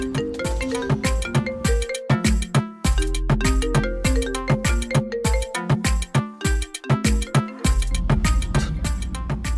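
A phone's musical ringtone plays loudly and close for an incoming call, a repeating melodic tone pattern with no one talking over it.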